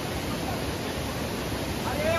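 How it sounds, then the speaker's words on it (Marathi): A forest waterfall roars in a continuous, steady broadband rush of falling water, constant in level throughout. "धबधबा मस्त आहे"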